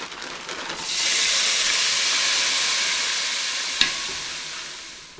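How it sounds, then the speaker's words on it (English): Onions hit a hot pot coated with sticky pork-roast residue and erupt into a loud, steady sizzle that settles into a long continuous hiss, with one brief clink near the end and no talking. "So we're gonna go in with a pretty generous amount of onion."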